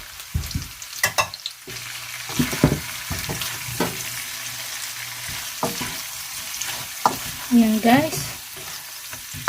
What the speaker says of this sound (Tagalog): Haluin lang para ma-distribute evenly yung ating seasoning